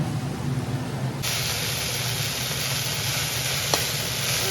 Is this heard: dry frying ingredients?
yes